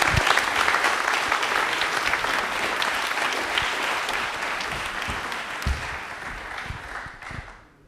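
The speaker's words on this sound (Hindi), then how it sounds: "चलो भाई ताली बजा दो इनके लिए जोरदार एक बार" Studio audience on a Rajasthani TV general-knowledge quiz show bursts into loud, sustained applause that carries steadily for several seconds before tapering off at the end.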